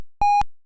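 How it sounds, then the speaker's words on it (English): A single clean electronic beep from a Simon memory game built in Unity: one steady, bright tone lasting about a fifth of a second, alone and clear with no voices. "after a short delay, we get our first 3 tones, which I can repeat"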